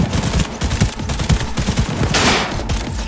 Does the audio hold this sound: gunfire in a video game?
yes